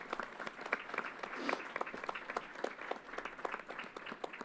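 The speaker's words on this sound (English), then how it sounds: "Let's give them a big round of applause." Faint, steady applause from an audience gathered at Yankee Stadium, many scattered hand claps blending into a distant, even patter that holds for several seconds.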